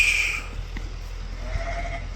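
Ewe lambs bleating at a sheep farm, a few soft calls over steady low background noise, with no talking.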